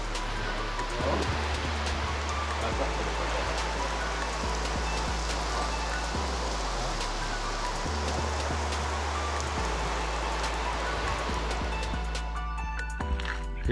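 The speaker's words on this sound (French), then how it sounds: "si on entend sur la vidéo la pluie là" Heavy thunderstorm rain drums on a roof in the Amazon near Santa Rosa, Colombia, a constant close hiss of falling water running throughout, with low droning tones underneath.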